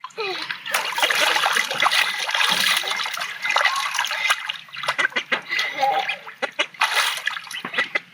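Two pet ducks raised from ducklings bought at a market quack and splash in water, a busy mix of calls and watery splatter with choppy bursts toward the end.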